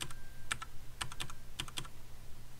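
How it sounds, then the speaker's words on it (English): Computer keyboard cursor keys are tapped in quick clusters of sharp, close clicks with short pauses between bursts, alone in a quiet room. "Now we can use the cursor keys to just center it up."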